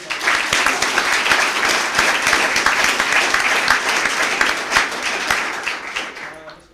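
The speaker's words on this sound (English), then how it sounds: "How about a round of applause for everybody?" An audience at a Bellbrook-Sugarcreek school board of education meeting applauds honored students, dense steady clapping sustained for several seconds before tapering off at the end, with faint voices underneath.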